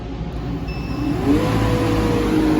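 A refrigerant recovery unit's pump starts up, its motor whir climbing in pitch, then holding a steady, close, continuous drone with no talk.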